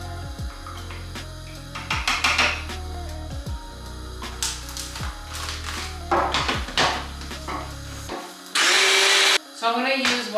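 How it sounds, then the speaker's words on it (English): A blender purees a can of chopped tomatoes, its motor whirring in pulsing bursts with rattling chunks and clunks, then a loud high rush near the end; no talk over it. "These are chopped tomatoes, so I'm just gonna blend them up"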